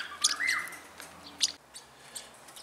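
Chirps and squeaky calls from the smallest parrot species in an aviary in Thailand: a few short, high, scattered tweets, moderately close, with no talk.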